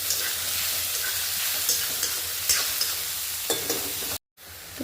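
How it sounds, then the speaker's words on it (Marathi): Three medium onions sauté in a pan until fully brown, a steady near sizzle with soft intermittent stirring scrapes, cut off abruptly near the end before resuming faintly. "कांदा कंटिन्युअसली परतत राहायचं आहे, आपल्याला ब्राऊन करायचं आहे पूर्ण।"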